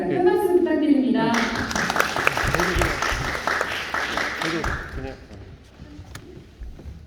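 An audience at a residents' assembly in a Seodaemun culture and sports hall claps loudly for several seconds. The applause fades out and a voice is faintly heard afterward.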